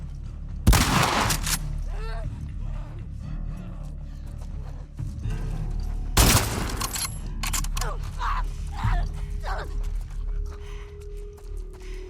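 Two loud rifle shots ring out in The Last of Us Part II, several seconds apart, amid tense ambient game noise, with someone talking between them.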